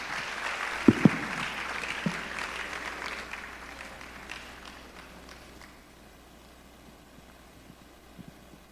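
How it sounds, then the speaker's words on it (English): Applause for a group photo at a DoSA Day event, a spread of clapping from a gathered crowd that fades steadily over several seconds into quiet room noise with a few stray taps. "let's appreciate them. A round of applause,"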